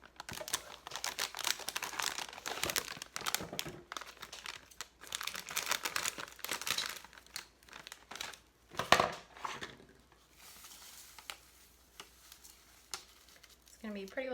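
Scissors snipping and crinkling open a plastic bag of graham cracker crumbs at a kitchen counter while making Nanaimo bars, with rustling packaging noise close by and brief pauses between cuts.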